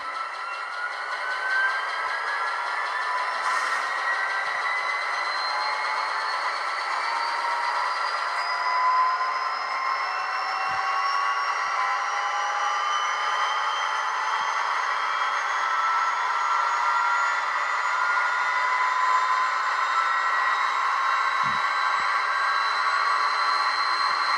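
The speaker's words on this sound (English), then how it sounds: "we're going to take this thing all the way to full throttle" Steady, loud engine drone from a ScaleTrains model EMD SD45X diesel locomotive at full throttle, notch 8, with rising whine tones that climb and hold over about twenty-four seconds, no talking, a constant mechanical roar throughout.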